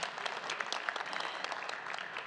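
An audience at a university Founders Day ceremony gives a brief burst of applause, a dense even patter of clapping heard from a distance at moderate volume.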